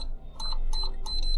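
A room heater gives three short bursts of electronic beeps as it is switched on, each burst a quick run of bright high tones over a low steady hum.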